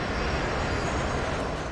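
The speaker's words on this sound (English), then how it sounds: "The plane is now 700 feet from the ground." A Turkish Airlines airliner on landing approach with gear down and flaps extended gives a steady, loud, broadband engine and airflow roar, constant and unbroken.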